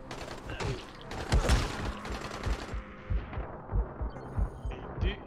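Gunfire in Dying Light, rapid bursts of shots and then spaced single cracks fairly close, mixed with mechanical clatter and no talk.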